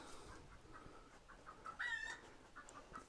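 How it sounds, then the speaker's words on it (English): Garden chickens in Cornwall clucking softly in the distance, scattered short clucks with one louder squawk midway, faint and outdoors. "I think someone's been scaring the chickens."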